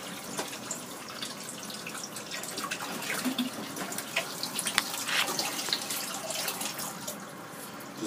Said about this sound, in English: Right now we're pumping in water from the tap right here directly into the tank